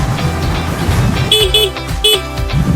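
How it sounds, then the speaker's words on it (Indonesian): Several short, loud honks of a car horn in quick succession over a running engine, close by. "Klakson dalam keadaan berfungsi."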